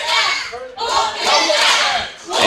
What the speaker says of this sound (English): you hear the crowd here saying some words we can't say on the program